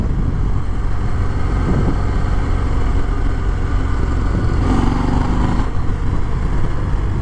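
A 2021 Harley-Davidson Fat Bob motorcycle pulls hard under acceleration, its engine roaring loud and close throughout, a dense continuous drone with a brief rise in pitch near the end.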